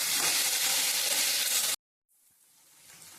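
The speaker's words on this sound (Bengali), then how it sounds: "এখানে ঢ্যাঁড়স ভাজা হয়ে গেছে" Okra fries with turmeric and salt in a pan, a loud dense close sizzle that cuts off abruptly, then a fainter crackle returns and slowly builds.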